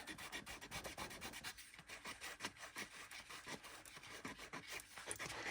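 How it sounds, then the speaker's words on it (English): A palette knife scrapes paint back across a dry junk journal page in repeated rasping, rubbing strokes, close and steady with no talking. "I've got a palette knife here, and I just want to start scraping some back."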